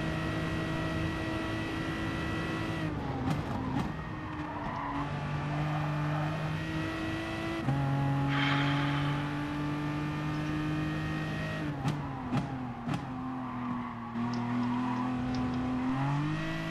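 Race cars in the video game GT Sport roar steadily, the engine pitch sliding down and up through gear shifts and braking, with brief tyre squeal and skids mixed in, loud and continuous.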